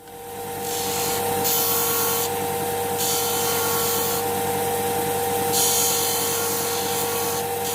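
A power sander runs steadily on wood in a workshop, a loud continuous whirring hiss that swells and eases several times as it presses against the workpiece.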